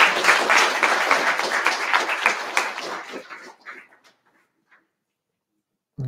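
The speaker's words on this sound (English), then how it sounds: "let's make, again, an applause for Christoph" Conference audience claps for a speaker at a programming event, a fairly close burst of clapping that fades out into scattered claps and then silence, with a brief voice returning at the end.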